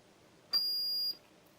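A single steady electronic beep from a megohmmeter's insulation test warning, high-pitched and clean, lasting about half a second, with quiet room tone before and after.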